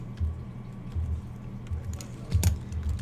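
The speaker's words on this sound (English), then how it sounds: "I can actually type the rest of this in." Computer keyboard keys clatter in short irregular bursts of typing, close and fairly quiet, with pauses between runs and no talking.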